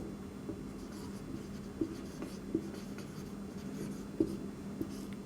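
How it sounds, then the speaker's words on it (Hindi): A pen writes by hand on paper during a Class 12 company accounts lesson, with soft scratchy strokes and a few light taps against a steady quiet room hum. "यहीं पे लिख देते हैं"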